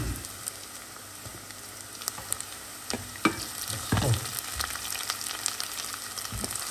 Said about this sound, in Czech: No, tak si to zarestuju.